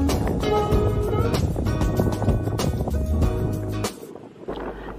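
Strong gusting wind buffeting the microphone, rough and blustery, easing off near the end.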